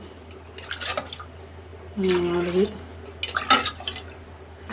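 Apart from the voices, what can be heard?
glasses of water being poured into rice pot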